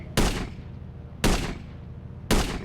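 Gunfire in a zombie video game: three sharp, loud, evenly spaced shots, each with a short booming decay, and no talk between them.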